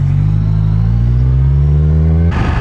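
A motorcycle engine idles and revs loudly up close, a deep steady harmonic drone that cuts off abruptly near the end.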